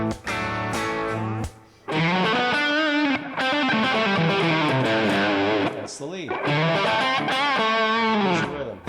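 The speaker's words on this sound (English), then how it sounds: "the rhythm is a little bit dirty and the lead is pretty dirty with a tubey sound" Heavily distorted electric guitar lead with a warm, tube-like overdrive tone from a Line 6 Helix, playing loud sustained bending notes and phrases with a short pause near the start.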